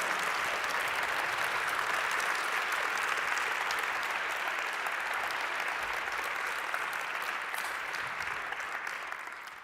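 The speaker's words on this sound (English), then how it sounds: "ladies and gentlemen, let's give them a big round of applause" A pitch-night audience at the Helsinki Challenge gives a long, loud round of applause, a dense and steady clatter of many hands that holds for several seconds and then begins to fade.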